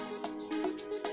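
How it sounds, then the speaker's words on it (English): A synth note with reverb in the Caustic 3 app for an amapiano track, sounding as a quiet, evenly pulsing tone, each soft hit trailing a short reverberant tail, alone. "I'm gonna add a reverb so it can sound like this."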